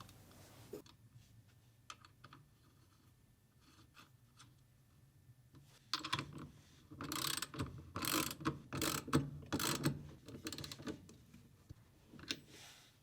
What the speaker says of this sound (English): install the 2 washers, followed by the nut, and tighten down